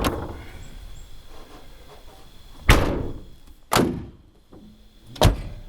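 Door of a 1987 Mercedes-Benz 560 SL being shut three times, each a solid, heavy thud with a sharp latch click, spaced about a second apart and heard close over quiet background hiss.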